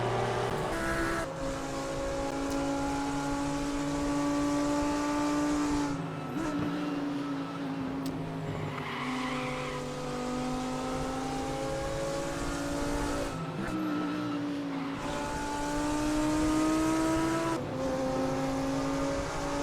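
Race car engines at Watkins Glen in the RaceRoom racing game, a continuous loud engine drone that rises and falls through gear changes, with brief dips and climbs as cars accelerate, no talk.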